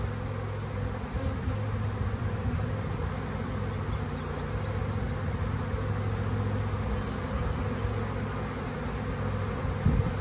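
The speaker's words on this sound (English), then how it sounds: "I think we have another swarm going on over here" A honeybee swarm hums continuously near the hive, a dense, even drone of many wings that holds steady throughout without talk.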